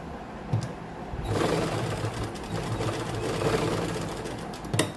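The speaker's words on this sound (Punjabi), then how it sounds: "ਮਸ਼ੀਨ ਨੂੰ ਹਿੱਪ ਵਾਲੀ ਸਲਾਈ ਦੇ ਨਾਲ ਨਾਲ ਬਿਲਕੁਲ ਤੇ ਇਸ ਤਰ੍ਹਾਂ ਉੱਪਰ ਨੂੰ ਸਲਾਈ ਲੈ ਜਾਾਂਗੇ" A sewing machine runs a steady line of stitching along the hip side seam of a suit, a close, continuous whir that starts after a soft click and stops with a brief clack.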